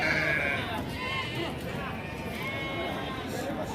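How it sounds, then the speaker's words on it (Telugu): Nellore sheep bleating at a busy village livestock market, several calls rising close by over continuous crowd chatter and people talking. "చూసుకోవచ్చండి నెల్లూరు గొర్రెలు"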